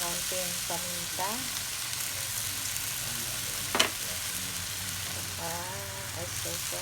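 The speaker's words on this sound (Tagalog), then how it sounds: "Ayan, haluin natin." Bean sprouts and shrimp sizzle and fry steadily in a pan, with a spatula stirring through them and a few clinks against the pan; a faint voice is heard briefly.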